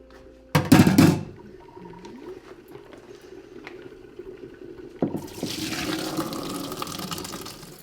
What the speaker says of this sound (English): So I'm gonna strain it very quickly and run some cold water over it so it stops cooking.